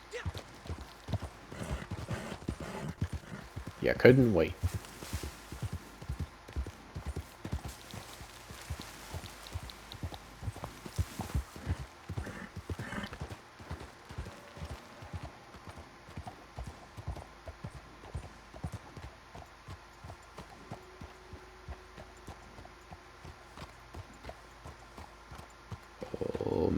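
Horse hooves clip-clop in a steady rhythm in a video game, clearer early on and fading later, while someone speaks briefly over them.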